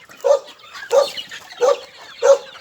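A dog barks four times in an even rhythm, loud and close, each bark short and sharp with brief gaps between.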